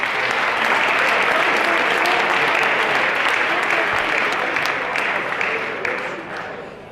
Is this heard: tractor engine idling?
no